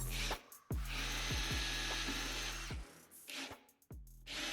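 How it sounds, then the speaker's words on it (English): A power drill whirs steadily, drilling a 1/8 inch hole in a subwoofer box for a couple of seconds, with short motor revs and stops at the start and end, close up. "You just drill a 1/8 inch hole and thread them in."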